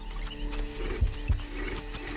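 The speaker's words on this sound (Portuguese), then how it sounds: "Leões." Lions in an African valley give two deep, brief roars about a third of a second apart, moderately distant over a low rumbling background.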